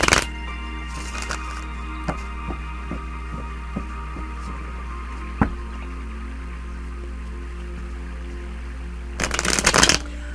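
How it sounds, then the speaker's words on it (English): Tarot cards are shuffled for a reading in two brisk riffling bursts, one at the start and one near the end, with a few soft taps and clicks of cards between them over a steady low hum. "let's go ahead and pull some more cards"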